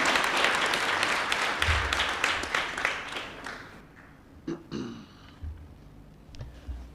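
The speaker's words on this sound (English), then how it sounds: "Let's applaud him as he comes to the podium kindly." Applause fills a symposium hall as a speaker comes to the podium, loud dense clapping that tapers off over four seconds, followed by a few scattered claps and faint throat clearing.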